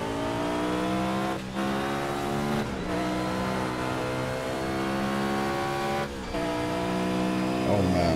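A race car engine revs hard in the Project Cars racing game, a loud sustained harmonic roar rising in pitch through the gears with brief dips at shifts, heard alone without talking.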